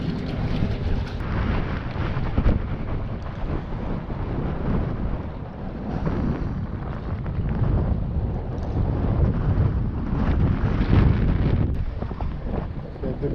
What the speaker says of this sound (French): Ici aussi, le vent tombe un petit peu, il s'atténue.